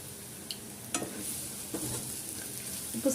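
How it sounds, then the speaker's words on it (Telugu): An egg and onion fry sizzles softly in a pan, a quiet steady crackle broken by a few light stirring clicks and scrapes, with no talking. "ఇది ఇట్లానే ఫ్రై కానిద్దాం"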